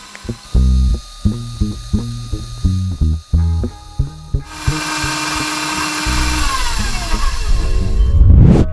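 An electric mixer beats sugar cookie batter with egg and vanilla, starting in short loud stop-start bursts and then running continuously as a whirring, grinding motor sound up close.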